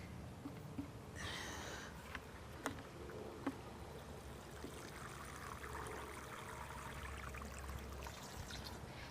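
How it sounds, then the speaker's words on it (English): Water pours steadily into dry soil in a container planted with hydrangea cuttings, a soft trickling, gurgling wash, close and quiet, with a few light knocks. "Next thing I need to do with this is water it thoroughly."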